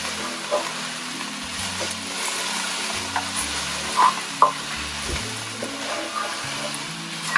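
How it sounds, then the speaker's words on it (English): Onions frying in a pan for massaman curry lamb shanks, a steady sizzle with intermittent scraping and a few sharper clanks as they are pushed around and stirred. "Yep, keep moving it around. Just so that all the onion's coated."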